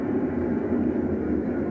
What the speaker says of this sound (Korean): 마그마가 흐르는 소리.